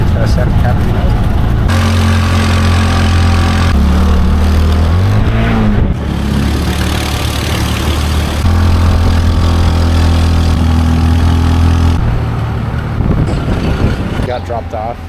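A tuk-tuk engine chugs and drones loudly throughout a ride toward Santa Catalina at Lake Atitlan, Guatemala, its pitch rising and falling as it shifts and accelerates, with voices talking over the noise.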